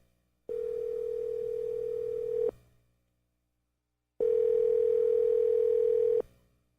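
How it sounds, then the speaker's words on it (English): A telephone ringback on an outgoing call: two long, steady tones, each about two seconds, separated by a quiet gap of roughly two seconds, clear and close with no voices. "See if she answers the phone call."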